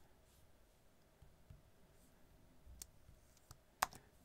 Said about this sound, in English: I'm trying to right click, but it won't let me.